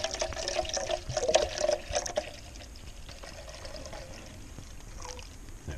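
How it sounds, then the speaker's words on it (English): Milk poured into a pot for heating over a small camp stove in a forest, a soft liquid trickle and splash in the first two seconds, then fading to a faint dribble against quiet outdoor background. "you just add your milk to whatever container you're using"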